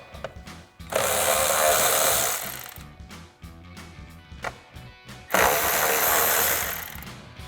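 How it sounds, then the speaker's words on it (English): A ratchet wrench fitted with a 10mm socket loosens the engine cover nuts on a 2018-2023 Mustang. Two loud, sustained clicking ratchet runs are separated by a stretch of softer, intermittent ratcheting, all close up and with no talk. "we're going to use our 10mm socket to remove those"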